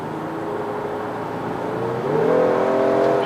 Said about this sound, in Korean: 가속을 할 때 엔진 룸에서 들어오는 엔진 소리 있잖아요